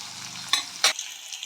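Onions, green chillies and curry leaves frying until brown, a soft steady sizzle broken by two short louder scraping stir strokes, close, no talking.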